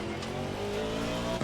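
A race car in Assetto Corsa Competizione brakes hard into a corner, steady engine drone with tire squeal building, then a sharp thump near the end; no talking.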